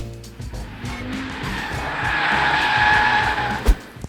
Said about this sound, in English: it sends as much power as it can to the outside rear wheel, pushing it wide, into oversteer rather than understeer